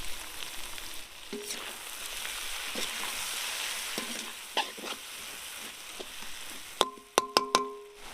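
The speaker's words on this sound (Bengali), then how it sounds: "পেঁয়াজ আর ক্যাপসিকাম দিয়ে ভালো করে ভেজে নিয়েছি" Onion and capsicum fry for chow mein in a hot pan, making a soft continuous sizzle with a few light stirring knocks, then a quick run of sharper metallic scrapes and taps near the end.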